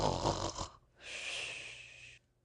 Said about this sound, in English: The snores continued.